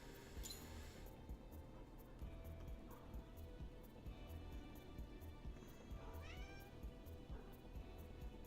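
A house cat meows several times, faint and somewhat distant, over a steady bed of background noise and game-like sounds during a gaming stream.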